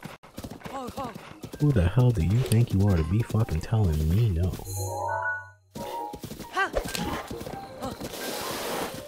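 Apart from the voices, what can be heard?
horse hooves and neigh in Zelda: Breath of the Wild video game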